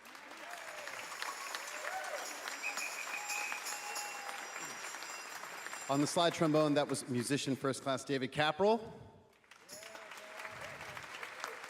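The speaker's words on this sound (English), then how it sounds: "How about a round of applause for our percussion section?" Applause for the percussion section at a U.S. Navy jazz band concert, a broad spread of clapping that dies away as a man announces a trombonist, with brass playing briefly in between.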